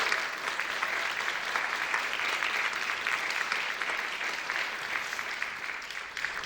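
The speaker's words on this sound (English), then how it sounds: "can we give her a round of applause?" Steady applause from a sizable crowd, an even wash of clapping that carries on throughout without a break.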